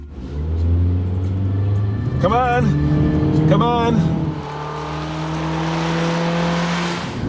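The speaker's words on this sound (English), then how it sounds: "Droning engine, wallowy suspension. A lot of noise, but just not a lot of go." A 2011 Mitsubishi Outlander Sport's engine drones loudly while the car accelerates on wet pavement, a sustained, strained hum that keeps rising in pitch, with a voice speaking briefly over it.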